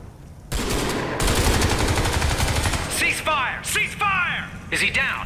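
Crysis 3 gameplay: rapid automatic gunfire rattles loudly for a few seconds, then fades as a voice speaks over it.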